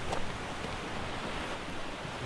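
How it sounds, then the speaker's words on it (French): Steady broadband rush of mountain waterfalls near the Oulettes refuge, continuous and fairly distant, with some wind on the microphone. "Regardez les cascades les gars."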